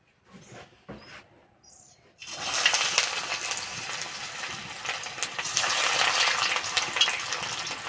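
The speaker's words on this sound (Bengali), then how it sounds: "এই যে তেল গরম হয়ে গেছে, এবার ভেজে নেব।" Semolina sweets drop into hot oil and set off a loud, hissing, crackling sizzle after a couple of quiet soft knocks; the bubbling carries on steadily and strongly to the end.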